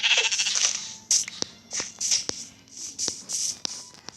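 Sheep in Minecraft bleat repeatedly, several short wavering calls in quick succession over a faint background hum, fairly close and clear, no talking.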